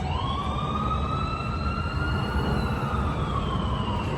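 An emergency vehicle siren wails steadily with a slow rising and falling tone over constant road rumble, fairly close, no talking, at a St. Patrick's Day festival in Tampa, Florida.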